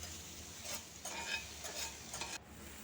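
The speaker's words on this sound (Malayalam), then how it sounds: "ഓയിൽ ചൂടായപ്പോൾ നമ്മളെ വെണ്ടയ്ക്കയ്ക്ക് ഇട്ട് കൊടുത്തിട്ട് അതും ഒന്ന് വറുത്തെടുക്കുന്നുണ്ട്" Okra frying in hot oil over a wood-fired stove for a home-style curry, with a soft continuous sizzle and a few bursts of stirring and scraping, no talk.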